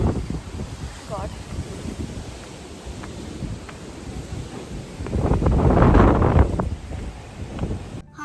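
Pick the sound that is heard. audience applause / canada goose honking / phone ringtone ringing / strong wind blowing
strong wind blowing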